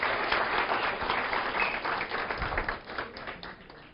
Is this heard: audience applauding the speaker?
yes